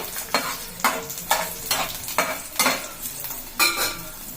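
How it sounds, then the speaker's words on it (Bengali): Garlic frying lightly in a pan for an idli chutney, a steady sizzle broken by five or six loud rhythmic stirring scrapes of a spoon against the metal, close and alone without talk. "রসুনটা হালকা লাল লাল করে ভেজে নেব, বেশি লাল করব না, হালকাই করব।"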